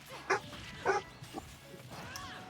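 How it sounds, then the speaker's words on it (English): A dog outdoors gives a few separate barks and yips, two louder ones early and then fainter ones, heard at moderate distance through a room with low background hum. "the dog seems to be very active outside right now. He's kind of borking."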